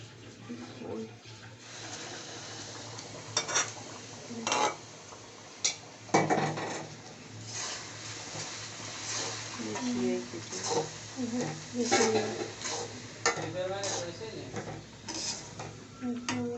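Semolina laddu mix with cashews, raisins and syrup being stirred in a pan, a series of scraping clinks and soft knocks of utensil on cookware, moderately close, beneath someone talking.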